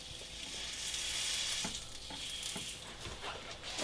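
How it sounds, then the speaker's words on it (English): Breaded cod loin sizzles and spits steadily in a pan on a small cook stove, a close, continuous frying hiss with a few soft crackles and pops, no talking. "And then the fish, with its nice little crispy crumb, goes into the pan."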